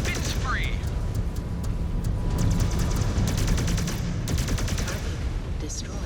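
Heavy weapons fire from battling mechs in MechWarrior 5: Clans, a dense barrage of repeated shots and booms running throughout, loud and close, with a voice over the clamor.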